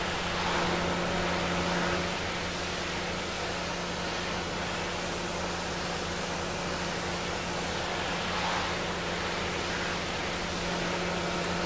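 A steady, even hiss from a pressure washer cleaning a loader in Farming Simulator 15, holding at one level throughout with a low mechanical hum beneath it and no speech.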